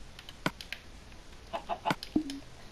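Clucking from a chicken in a video game: a few short, close clucks spaced irregularly, then a brief pitched squawk at the end, quiet over a faint background hiss with no talk.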